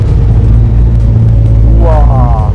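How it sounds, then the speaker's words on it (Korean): A Jeep at the Busan International Motor Show runs with a heavy, close, continuous engine rumble, while people talk and exclaim over it. "시동 걸어보겠습니다"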